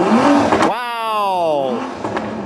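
Toyota Supra engine revving hard outside a car shop, a loud rising rev that climbs and falls over about a second, with a voice shouting just before it.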